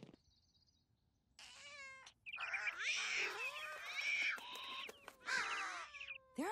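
Several cats meow in turn among bird calls in an outdoor spot behind a building, with overlapping cries that are fairly close and loud after a quiet start.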